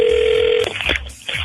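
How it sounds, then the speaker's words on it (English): A telephone rings on a morning radio show call, a steady tone cut short before the line clicks and shifts into muffled call noise. "I got her. It's ringing."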